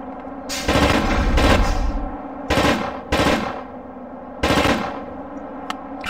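Automatic gunfire from shooting at enemies in a video game, heard as three or four loud, rapid bursts with short gaps between them.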